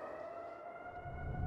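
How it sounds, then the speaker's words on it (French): A distant flood warning siren at Manitou holds a steady, faint wail, with a low rumble building toward the end. "C'est la sirène d'inondation de Manitou."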